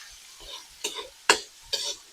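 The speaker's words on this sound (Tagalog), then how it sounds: "Gigisahin ko lang muna ito siya mga Mima." Ginger and tomatoes sautéing in a pan, with a few sharp stirring scrapes and short bursts of sizzle spaced about half a second apart, close and fairly quiet.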